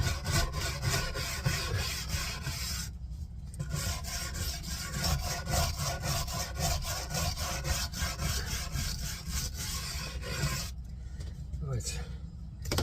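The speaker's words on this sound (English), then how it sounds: "as you can see, I use a sanding block" Sandpaper on a sanding block rubbing back and forth over wood on a GPO battery box conversion, a rhythmic rasping scrape with brief pauses between strokes.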